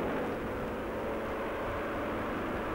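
A post-war rescue helicopter at sea gives a steady, droning engine and rotor roar, constant and fairly distant, with no other clear sounds.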